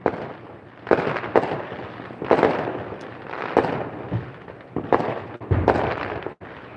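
Repeated deep booming Fourth of July fireworks bursts in a Las Vegas neighborhood, roughly one per second, loud and near, with crackling tails and no talking.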